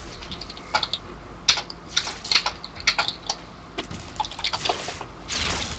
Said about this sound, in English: Fucking keyboard.